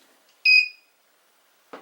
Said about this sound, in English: it gave us a system check, please wait on both screens as long as a confirmation beep